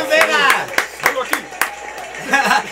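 Several sharp claps from a small podcast audience welcoming a guest break through loud, continuous talking.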